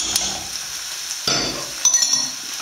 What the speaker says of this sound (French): On mélange donc le tout avec harmonie